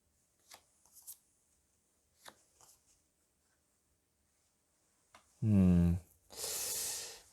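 Tarot cards are handled with a few soft taps and slides, then a quick riffle shuffle closes the sequence. It sounds close and quiet, and a short sniff or breath comes just before the riffle.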